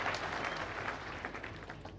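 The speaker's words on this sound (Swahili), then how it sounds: "Tupigie Mungu makofi kwa sababu ya kupea mzee wetu miaka mingi." A crowd of mourners at an outdoor burial for a 101-year-old elder claps together, a continuous, fairly distant patter of applause with no voices standing out.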